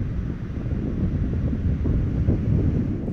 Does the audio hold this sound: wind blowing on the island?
yes